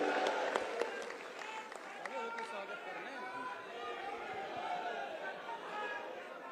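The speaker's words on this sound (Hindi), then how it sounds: "एक बार जरा तालियों की गड़गड़ाहट से स्वागत करेंगे।" A crowd applauds at a Bharatiya Janata Party event in Uttar Pradesh marking Pankaj Chaudhary's appointment as state president. Scattered claps ring out near the start, then a dense wash of clapping and crowd chatter carries on steadily.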